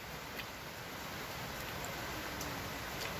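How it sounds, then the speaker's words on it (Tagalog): Rain falls steadily in January, an even, unbroken hiss with no talking over it. "Baka ito na yung mga huling ulan."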